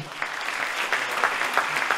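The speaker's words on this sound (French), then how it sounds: "moi je vous demande d'applaudir Jean-Paul Lecoq" A crowd at a campaign launch rally for Jean-Paul Lecoq claps continuously, a dense, even patter of many hands with a few sharper individual claps standing out, fairly close and without speech.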